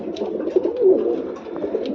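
Teddy pigeons, a male and a young female, cooing in a low repeated rolling coo close by, soft and steady with no talk.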